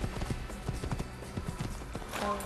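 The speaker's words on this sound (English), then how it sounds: "I think the favorite part of this game so far is the horse." Horse hooves clip-clop at a steady trot in the video game Assassin's Creed, a quiet rhythmic run of hoofbeats with a soft hint of a horse vocalisation near the end.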